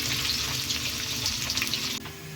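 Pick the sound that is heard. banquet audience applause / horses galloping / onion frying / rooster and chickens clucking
onion frying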